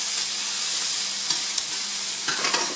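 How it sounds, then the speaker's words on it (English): Sweet peppers and onions sautéing in a skillet for a chicken vegetable stir fry, a dense, even hiss of sizzling oil with a few brief stirring scrapes near the end, close and fairly loud, no voices. "I'm going to go ahead and toss the sweet peppers in with the onions."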